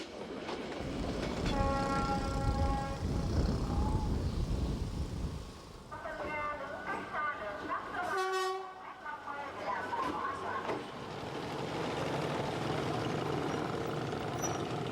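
A train travelling north to Hue, Vietnam rumbles along steadily, its horn sounding tonal toots early and again near the middle, with a continuous roll of wheels and carriages throughout.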